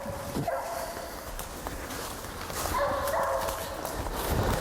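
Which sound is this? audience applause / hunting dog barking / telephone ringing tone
hunting dog barking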